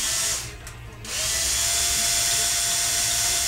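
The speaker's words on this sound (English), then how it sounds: "Go ahead and drill another 1/16 inch hole on the other side of your servo." A small power drill whines steadily as it bores a 1/16 inch hole in wood for a servo mount on a model aircraft kit, briefly easing off before spinning back up, close and alone.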